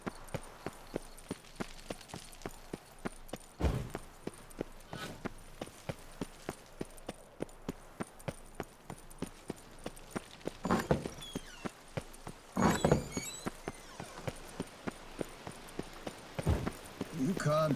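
Horse hooves in a race in The Witcher 3, set in Beauclair: a long run of rapid, regular galloping clip-clops close up, with a few louder thumps and people talking over it.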